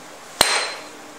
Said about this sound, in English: hitting the silly putty with the hammer made it fracture brittly